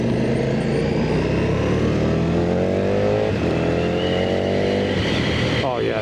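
A 2022 KTM Duke naked motorcycle accelerates hard on the road, its engine revving up through rising pitch with brief shifts, loud and steady wind-blasted roar close to the rider.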